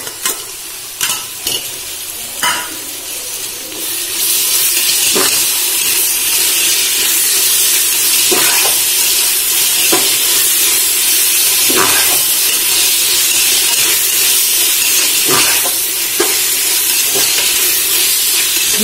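Onions with ginger garlic paste sauté in a pan for mushroom biryani, first a few stirring knocks, then a loud steady sizzle and hiss with occasional spoon scrapes.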